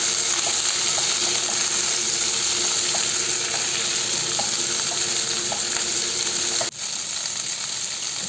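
Capsicum and tomato are stir-fried in a kadai for kadai paneer, giving a loud, steady sizzle throughout with faint repeated scrapes from stirring. The sizzle drops off suddenly near the end. No speech.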